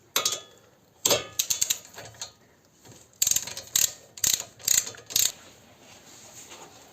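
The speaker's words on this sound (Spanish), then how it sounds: "Aflojamos los dos tornillos." Ratchet wrench loosening the brake caliper bolts on a 2018 Peugeot 5008, close-up bursts of rapid metallic clicking in several short runs separated by pauses.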